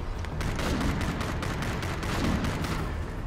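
Dense, rapid gunfire from a shooter video game crackles steadily throughout, a continuous burst of overlapping shots with no clear gaps, moderately loud and heard alone.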